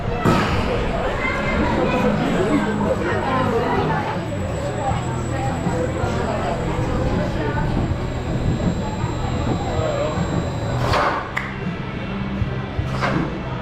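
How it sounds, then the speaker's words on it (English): A ride train rolls into the Formula station at Energylandia theme park, Poland, with a steady, loud rumble and a thin, high squeal running throughout, with voices murmuring in the background. "there comes the train ready for our ride"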